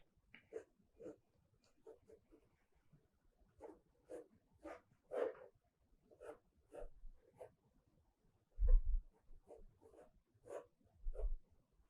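Pencil sketching on paper, drawing the head of a Buddhist monk figure, with a run of short scratchy strokes in an uneven rhythm, close and fairly quiet, plus a few low thumps.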